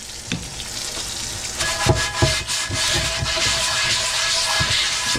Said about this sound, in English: You can hear how aggressive that bamboo is on the surface